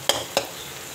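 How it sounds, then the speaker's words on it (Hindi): Onions fry for karela sabzi under constant stirring, two sharp spoon scrapes against the pan standing out over a soft, even sizzle in a very short burst. "ये मुसलसल इसको मैं चम्मच चलाती जा रही हूँ, कहीं से ये ख़राब ना हो जाए फ्राई होते हुए"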